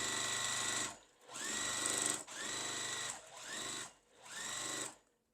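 A sewing machine stitches a quilt block in several loud, close runs, each a steady whirring buzz broken by short pauses between seams.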